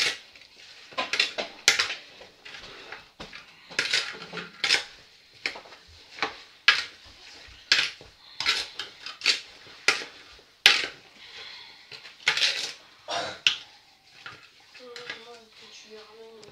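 A spoon works through a fruit salad in a bowl with repeated clinks and wet scrapes in an uneven rhythm, close by, while a person talks intermittently between the strokes.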